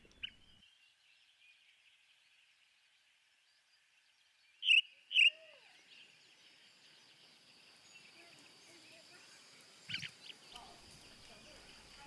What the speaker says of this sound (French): Les oiseaux chantent